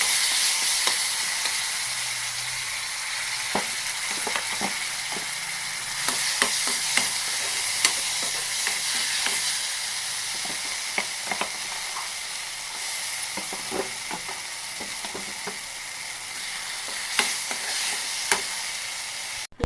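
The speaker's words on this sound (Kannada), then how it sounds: "ಒಗ್ಗರಣೆ ಮಾಡಿ ಈ ರುಬ್ಬಿರೋದೆಲ್ಲ ಅದಕ್ಕೆ ಹಾಕಿ ಸ್ವಲ್ಪ ರೋಸ್ಟ್ ಮಾಡ್ಕೋಬೇಕು" Ground tamarind-shoot paste is roasted in a pan tempered with oil, dried chillies and curry leaves. It gives a steady close sizzle broken by frequent scraping and stirring clicks, with no talk.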